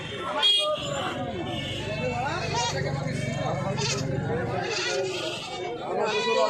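Goats bleating at a rural livestock market near Bangaon, with repeated wavering calls over a busy crowd babble and nearby voices talking.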